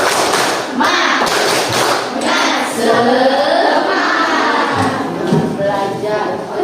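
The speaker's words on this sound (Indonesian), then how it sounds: "Berarti kita tepuk semangat dulu dong. Tepuk semangat." A classroom of children does the "tepuk semangat" spirit clap: quick rhythmic patterns of hand claps and taps, loud and close, mixed with group chanting voices throughout.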